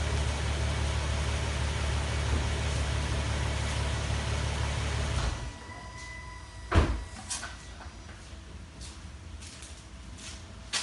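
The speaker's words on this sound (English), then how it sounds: "So here's the car just idling." A warmed-up 2014 Infiniti Q50S AWD fitted with K&N Typhoon intakes idles with a steady, low, droning hum for about five seconds, then the engine shuts off, leaving near-quiet broken by a few faint clunks.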